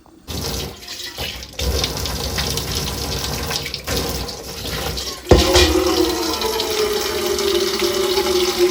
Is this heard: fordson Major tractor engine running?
no